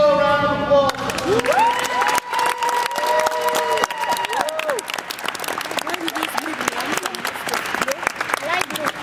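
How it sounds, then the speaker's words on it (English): An audience at the Hostos Student Leadership Academy conference breaks into sustained applause that fills the room for several seconds, while a speaker's voice talks over the clapping near the start and at moments throughout. "Let's give you a round of applause."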